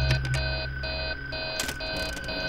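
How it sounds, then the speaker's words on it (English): An alarm blares in the Five Nights at Freddy's 3 horror video game, a loud electronic beeping tone that pulses in repeated bursts with short gaps, punctuated by sharp clanks, with no talking. "Please don't let the alarm go off."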